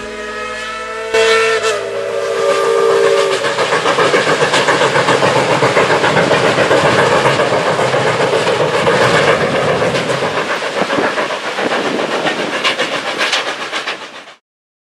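A train whistle sounds briefly, then a loud, close Tweetsie Railroad train rumbles and clatters along the tracks with rhythmic clicking before cutting off.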